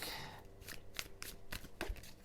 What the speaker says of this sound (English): Okay, that was a very rough shuffle